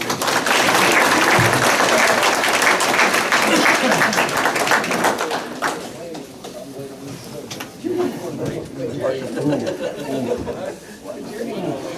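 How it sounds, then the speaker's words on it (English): Audience applause at a 2017 Crystal Motor Speedway awards banquet, loud and sustained for about five seconds, then tapering into scattered claps and room chatter. "How about a big round of applause for the 52 machine of Alexis Morris."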